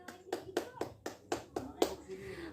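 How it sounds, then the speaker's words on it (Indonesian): Rhythmic clapping in a high school classroom, about eight crisp, evenly spaced claps at close range, fairly faint overall, with a short voice after the final clap. "boleh beri tepuk tangan"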